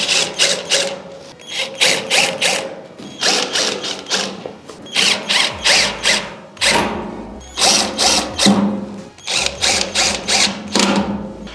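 A power drill drives screws during furniture assembly in repeated bursts of whirring and ratcheting, each run rising and stopping in a steady start-stop rhythm, close and loud with no talk.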